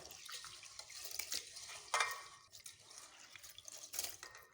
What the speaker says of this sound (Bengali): আর দুবার চালটা ভালো করে ধুয়ে নেবো।